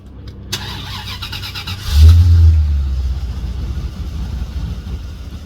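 A 1982 Ferrari 308 GTSi engine fires up with a sudden loud blip of revs, then settles into a steady, rumbling idle close by.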